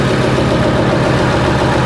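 Onboard engine of a fishing boat out of Fraserburgh, heard close and loud as a steady, throbbing idle rumble with no voices.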